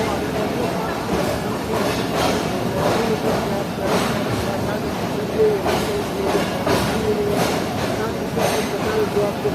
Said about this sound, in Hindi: हैदराबाद जंक्शन के मेन प्लेटफॉर्म यानी कि प्लेटफॉर्म नंबर 1 पर इस वक्त हमारी ट्रेन प्लेस हो रही है।